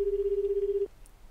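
Telephone dialing in the video game 428: Shibuya Scramble, a steady pulsing tone that cuts off abruptly and is followed by a faint brief chime, heard alone and quiet.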